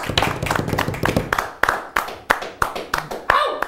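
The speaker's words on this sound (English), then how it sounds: "A big round of applause." Hand clapping from a small group at a live late-night show at the Smash Summit 6 gaming event, dense at first, then thinning into a few sharp, evenly spaced claps near the end.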